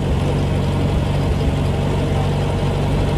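Excursion vehicle engine on Biriuchyi Island, a loud, steady low rumble of a running motor, close and continuous for a few seconds without speech.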